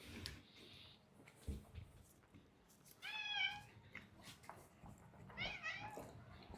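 A cat meows twice, clear wavering calls a couple of seconds apart, close and fairly quiet in a calm room with soft background noise.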